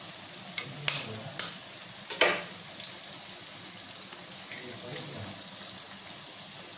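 Eggs frying and being stirred in a pan while making macaroni, a soft steady sizzle with a few sharp utensil scrapes and clinks against the pan, close up and with no talking.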